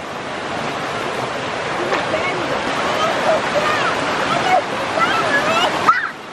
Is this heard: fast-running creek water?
yes